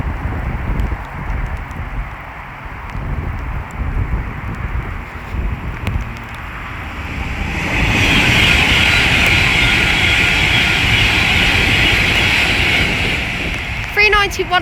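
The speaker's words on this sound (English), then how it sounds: "The next train to pass by is an Avanti West Coast Class 390 Pendolino from London" An Avanti West Coast Class 390 Pendolino on its London Euston to Liverpool Lime Street run passes through Milton Keynes Central station, a rising rush of wheel and air noise building to a steady roar, with wind buffeting the microphone.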